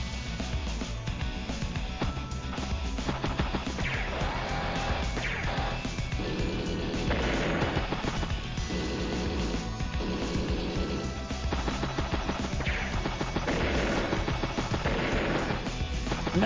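Artillery fire and combat effects from the Advance Wars: Days of Ruin video game play over loud, continuous game music, with repeated blasts and crashes scattered throughout.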